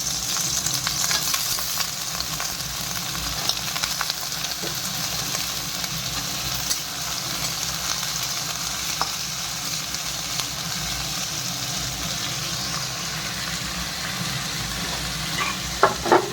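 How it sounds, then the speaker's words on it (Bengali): Potatoes frying in a pan for a green-onion ghugni, a steady dense sizzle running unbroken throughout with a few faint scrapes of stirring near the end. "তারপরে দিয়ে দিচ্ছি এই যে আলুগুলো একটু ভেজে নিই এর সঙ্গে।"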